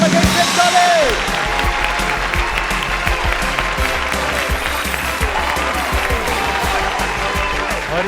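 An audience at a Hindi quiz competition grand finale claps loudly and steadily for the winning college after a short spoken announcement, the applause sustained throughout with faint crowd murmur.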